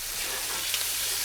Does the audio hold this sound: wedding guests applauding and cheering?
no